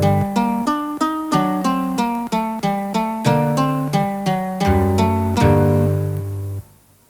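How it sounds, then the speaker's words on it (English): A single acoustic guitar string, sampled and cleaned up with editing software, played as a melodic sequence of plucked notes with sharp attacks and gentle decays, loud and alone, ending with a held note that fades. "Here we have a single string taken from an acoustic guitar,"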